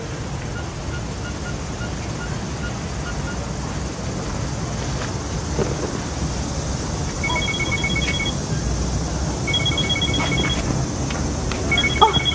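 A lost mobile phone rings when called, a faint repeating electronic ringtone in short bursts over a noisy indoor background, growing more frequent toward the end.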